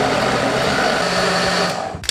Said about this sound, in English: Carefully add the sauce into your blender. Blend this until nice and smooth.